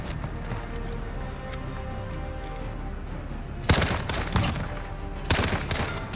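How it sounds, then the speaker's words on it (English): Gunfire in Modern Warfare starts as faint ticking, then three sharp bursts of rapid shots crack out close and loud over low background noise. "That gun said doo doo doo."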